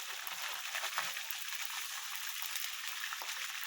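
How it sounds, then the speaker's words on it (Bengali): Water poured into a pan holding ginger paste while making egg curry, a steady close splashing hiss that runs evenly throughout with no talk. "আদা বাটা দিয়ে একটুখানি জল দেবো।"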